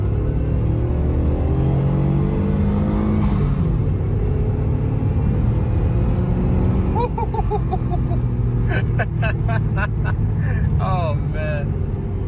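A 1997 Mitsubishi GTO accelerating on a drive, loud close engine rumble inside the car rising steadily, with a person talking over it and brief squeaks later.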